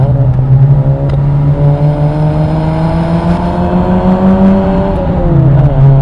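A modified FIAT project car's engine drones steadily and loudly, its exhaust note rising in pitch under acceleration in second gear with a brief dip near the end, no voices.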